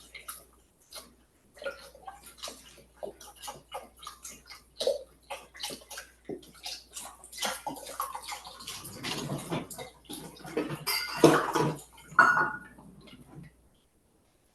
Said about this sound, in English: So we're gonna do 4 cups of the chicken broth.